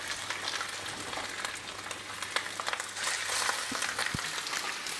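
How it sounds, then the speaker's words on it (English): Lamb shanks for Kashmiri rogan josh dropped into hot vegetable oil, a soft crackling sizzle that swells louder partway through, with a brief knock near the end. "Then we're adding our lamb shanks."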